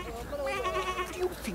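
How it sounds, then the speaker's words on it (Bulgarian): A sheep bleats in a few wavering cries beneath a voice, with low farmyard background. "Я каква овца! Чия ли е?"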